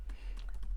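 Fingers type rapidly on a computer keyboard, a quick run of soft, close key clicks over a low steady hum.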